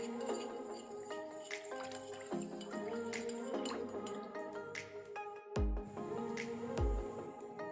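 Half a cup of milk whisked together with refined oil for a wheat tumbler cake batter: close, quiet, wet sloshing and squelching strokes with light clinks against the bowl, continuing throughout without talk.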